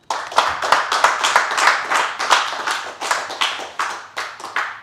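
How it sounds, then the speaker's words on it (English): A room audience at a Mental Health World Cup draw event at QPR claps for sponsors, a few dozen hands giving steady, fairly loud applause with distinct individual claps in an even rhythm, no voices over it. "Just a big round of applause for those of the people in the room and online"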